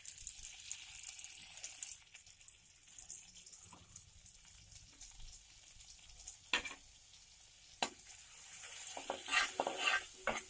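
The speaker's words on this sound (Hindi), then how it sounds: "ये सेम कढ़ाई में मैं ये बटर इस्तेमाल कर रही हूँ।" Butter heating in a kadai (wok) gives a soft, steady sizzle, with scattered clinks and scrapes of a spoon stirring and a few sharper knocks near the end.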